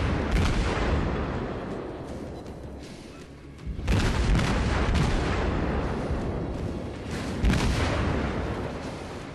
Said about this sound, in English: we'll open fire on this St. Louis